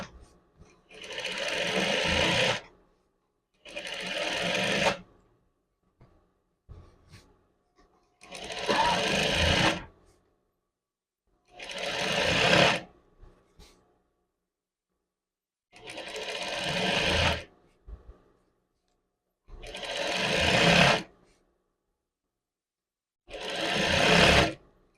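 Domestic sewing machine topstitching a narrow seam down the back of a men's chef jacket, running in repeated bursts of one to two seconds separated by short pauses, close and clear with no talk.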